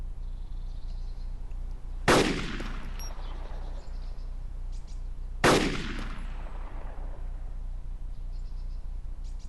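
Two loud gunshots from rifle fire in the video game DayZ, spaced about three seconds apart, each a sharp crack trailing off into a decaying echo over a steady background hiss.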